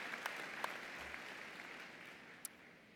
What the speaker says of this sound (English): Another round of applause, truly.